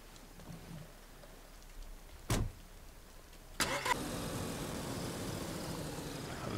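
Car engine starting in the video game DayZ on PS4 during rain: soft rain patter, then two sharp cranking bursts before the engine catches and settles into a steady idle running to the end.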